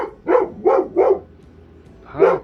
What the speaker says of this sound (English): Puppy.